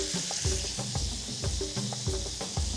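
Meat laid into a hot pan sizzles steadily, with a few soft stirring and scraping knocks over the continuous frying hiss.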